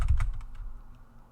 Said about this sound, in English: I need to make sure I'm typing in a text box and not just randomly typing